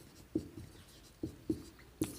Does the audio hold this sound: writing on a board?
yes